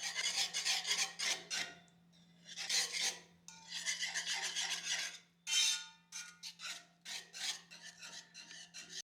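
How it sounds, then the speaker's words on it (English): A whisk stirs flour slurry into a pot of Jamaican hominy corn porridge, quick scraping strokes in rhythmic bursts with brief pauses, close and clear with no talking. "A whisk helps with quickly and evenly mixing in the slurry."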